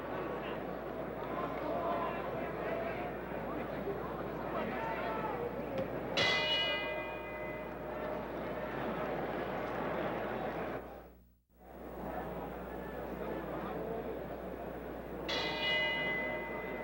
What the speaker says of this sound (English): Bell for round eight.